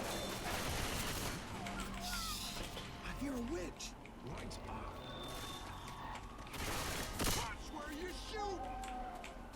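Left 4 Dead 2 gunfire on the I Hate Mountains map rattles in rapid bursts and scattered shots as a teammate gets hit, under near-constant excited talking.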